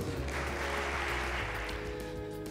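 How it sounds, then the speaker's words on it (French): Guests at a chamber of commerce gala dinner applaud as a president is called up, brief steady clapping with faint tonal hum beneath, fairly soft. "Gracias d'applaudir"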